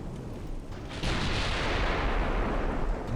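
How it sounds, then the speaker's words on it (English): Enemy battleship's ammunition detonating in the naval game Ultimate Admiral: Dreadnoughts, a low rumble that suddenly swells into a broad, sustained roaring blast and holds loud to the end, with no voices. "I think her ammo detonated."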